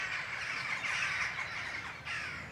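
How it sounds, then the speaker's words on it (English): Crows caw repeatedly and raucously while mobbing a buzzard during nesting season near Hartslock, Pangbourne, a noisy overlapping chorus of harsh calls at moderate distance with no talk. "all that kerfuffle in the background is crows trying to ward off a buzzard"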